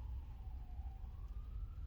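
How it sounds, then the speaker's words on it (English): An ambulance siren passes outside a coffee shop, heard as a faint, steady wail that slowly rises in pitch over a constant low rumble of traffic and room noise. "there's an ambulance"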